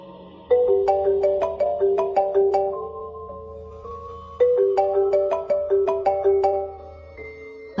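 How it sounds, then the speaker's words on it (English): A melodic phone ringtone plays twice, bright chiming notes in a repeating pattern, clear and fairly loud with a short pause between rings. "I heard a ringtone from upstairs, in my bedroom."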